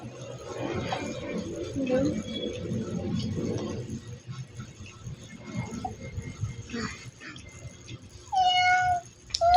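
A cat meows repeatedly, with a couple of sharp, high calls near the end, while people talk and shuffle around it nearby.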